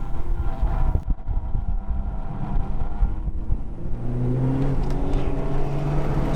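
A Honda Civic Type R FK8 laps a race track during a time attack event, its engine droning loudly up close with steady wind and road roar, then rising through a climbing rev note.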